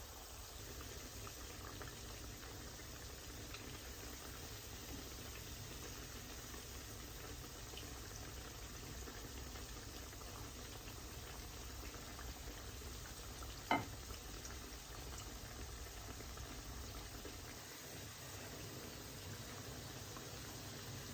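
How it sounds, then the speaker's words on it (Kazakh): Potato cutlets made from mashed potato fry in hot oil in a pan, giving a steady, even sizzle that runs throughout with one brief sharp tick partway through and no talking. "Енді осының үстіне котлеттерімізді жаңағы пюреден қуырып аламыз."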